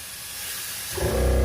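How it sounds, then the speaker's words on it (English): Air compressor for a trailer's air ride suspension kicking on, a steady hiss that swells into a louder, continuous mechanical drone about a second in and keeps running to the end. "The compressor should kick on as well."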